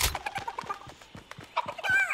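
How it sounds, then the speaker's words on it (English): A chicken in the video game Fortnite clucks in a quick series of short, choppy notes, fairly close and clear, ending with a higher squawk. "I don't think you can threaten the chicken"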